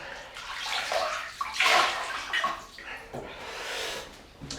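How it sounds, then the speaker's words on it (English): Water splashes and sloshes close by as a man wets his face before shaving. Soft irregular splashes come in several bursts, fairly quiet, with no talk over them. "So we just wet this ugly mug and we'll carry on."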